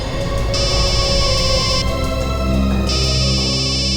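Telephone ringtone playing loudly and steadily, a repeating electronic melody with a strong continuous tone, alone with no talk.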